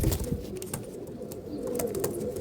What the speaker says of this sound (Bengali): খুবই ভালো পায়রা আছে, দেখতে পারেন পায়রাগুলো।